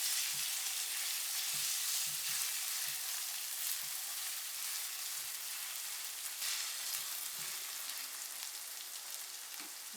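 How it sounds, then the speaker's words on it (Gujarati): Onions sizzle in a pan while cooking ringan bharthu, a steady loud crackling fry with occasional soft stirring taps and no voices. "આને થોડીક વાર પાકવા દેવાનું થોડી આપણે ડુંગળી થોડી લાલ થવા દેવાની છે"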